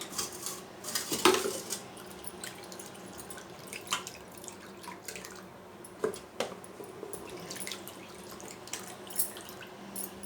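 A metal pot scrubbed with Vim dishwashing liquid is rinsed at a sink, with close clanks and scrapes of metal, dripping and trickling water, and occasional louder knocks against the basin.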